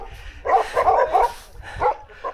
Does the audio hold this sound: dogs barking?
yes